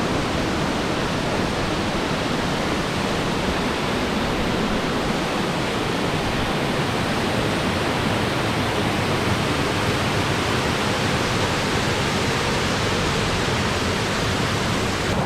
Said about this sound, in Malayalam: നല്ല ഹൈറ്റിൽ നിന്ന് വെള്ളം താഴേക്ക് വീഴുന്നുണ്ട് കേട്ടോ.